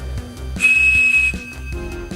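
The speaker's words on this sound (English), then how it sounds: "The Captain Crunch whistle." A Captain Crunch toy whistle sounds a sustained, piercing 2600 Hz tone for well under a second, loud and close, with a rhythmic low clunking beneath and around it.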